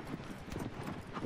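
A horse's hooves clip-clop in a rapid galloping rhythm in the video game Shadow of the Colossus, heard faintly and continuously.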